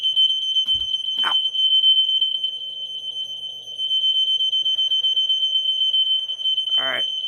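A Gentex smoke detector sounds during a test with a loud, continuous high-pitched electronic tone that pulses rapidly and stays steady throughout, accompanied by a couple of brief knocks and rustles nearby.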